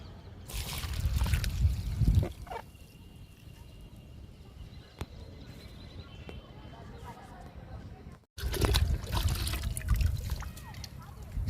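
Liquid fertilizer splashing and pouring onto the soil around a drumstick plant, with two loud gushing bursts at the start and end separated by a quieter stretch, and voices heard throughout.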